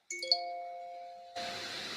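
A bright electronic chime of a few ringing tones sustains and fades, then gives way to a steady hiss of noise.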